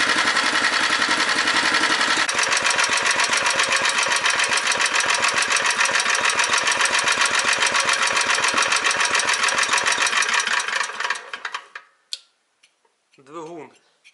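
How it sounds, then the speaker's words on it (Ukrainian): A cold D-250 diesel engine idles while warming up, a loud rapid knocking clatter close by that runs steadily for about eleven seconds before dying away, with brief speech at the end. "Чекаю, поки прогріється двигун."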